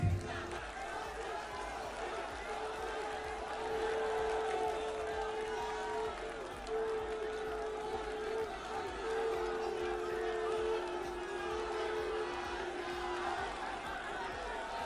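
A large crowd at an Indian election victory gathering applauds and cheers for Prime Minister Narendra Modi. The sound is a steady, dense wash of clapping and shouting that carries on for the full fifteen seconds, with a sustained tone running through it.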